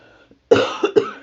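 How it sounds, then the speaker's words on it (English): A woman gives a short burst of three close, harsh coughs in quick succession after a brief quiet moment. "I'm really got a cough"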